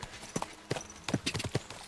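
Horse hooves clip-clopping in Kingdom Come Deliverance 2, several irregular hoof strikes close by, moderately loud over a low background.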